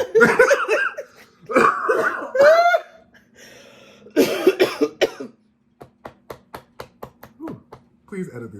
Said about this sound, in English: Please edit these coughs out